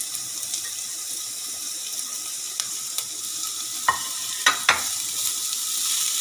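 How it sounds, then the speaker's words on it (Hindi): Onion, capsicum and green chilies frying in oil over high heat, a steady hiss with a few sharp spatters and stirring clicks near the end, close and moderately loud, with no talking. "तो भी हम 1 मिनट के लिए फ्राई करते हैं तेज़ आंच पे।"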